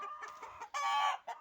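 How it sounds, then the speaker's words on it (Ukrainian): A rooster crows nearby, a loud strained call broken into short bursts with a rising final note. "Це сусідський півень кричить."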